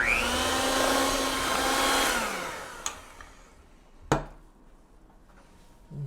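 An electric mixer whirs steadily through whoopie pie batter with buttermilk added, then winds down and stops. A couple of sharp taps and knocks against the bowl follow, and the kitchen is otherwise quiet.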